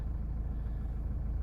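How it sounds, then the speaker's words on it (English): A Mazda 6 with a DPF and fault codes, including turbo underboost, idles with a steady, even low rumble throughout and no talk; the start itself is not heard. "I'm going to start this car."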